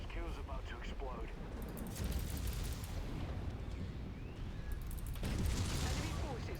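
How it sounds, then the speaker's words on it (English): A spaceship blows apart during a space battle in a video game, with dense, rumbling explosive noise and crackling bursts running throughout, swelling louder near the end over a busy combat soundscape. "My last kill's about to explode."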